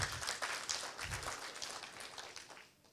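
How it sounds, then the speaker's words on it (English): Applause from an audience after a film screening at a community lagoon conservation event, a moderate patter of clapping with a few heavier bursts that thins out and fades in the last half second. "bigger applause"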